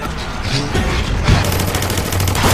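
Rapid bursts of gunfire from glowing magic bullets in the film Alone in the Dark ring out as loud, continuous volleys throughout, with booming low impacts and no talking.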